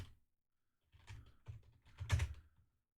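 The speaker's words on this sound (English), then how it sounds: "I'm typing it in chat just in case" Bursts of quick clicking keystrokes on a computer keyboard, close and fairly quiet, with a pause before a flurry of taps.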